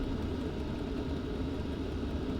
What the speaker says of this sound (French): on va allumer le chauffe-eau qui est juste à côté. Mais lui, honnêtement, il est très bruyant